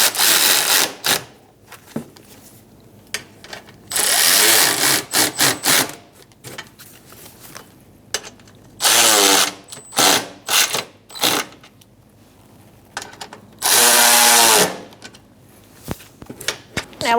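A power tool snugs up 10mm bolts on a 2014-2018 Subaru Forester during radiator work, giving several short bursts of whirring separated by quiet gaps and small clanks from the work.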